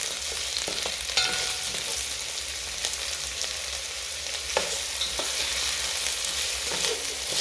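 Onions, garlic and spring onions stir-fry over low heat, giving a continuous, fairly soft hiss with occasional sharp taps and scrapes from the utensil.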